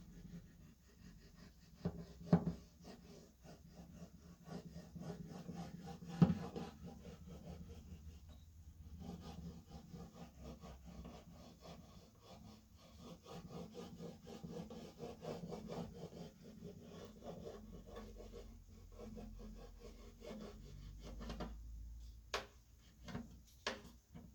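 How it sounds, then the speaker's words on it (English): A burnishing tool rubs a transfer onto an upcycled guitar, giving quiet, steady scraping strokes up close, with a few sharp taps and clicks near the start and end. "I'm going to use that burnishing tool again, and I'm going to burnish this."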